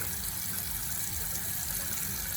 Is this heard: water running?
yes